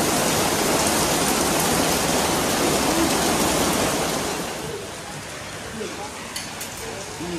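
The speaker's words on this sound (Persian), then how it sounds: "امروز بسیار بارندگی شدید است، صد به صد باران می بارن" Heavy rain pouring down in Bali, a dense, steady hiss that is loud for the first four seconds and then eases to a softer, even wash.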